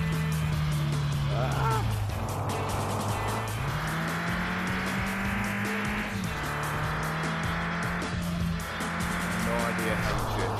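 A car drifts in a VR drifting video game, its engine whining up and down through gear changes while tires squeal continuously, loud and close throughout.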